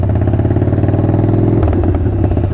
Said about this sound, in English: Nothing to replicate the sound of a carbureted bike